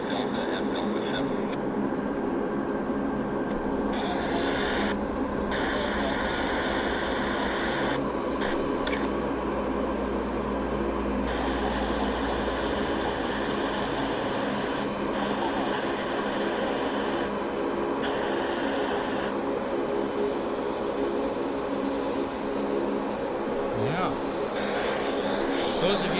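A heavy jet aircraft at Vancouver International Airport gives off a steady, loud engine roar that swells and holds for the whole stretch, with a faint voice underneath.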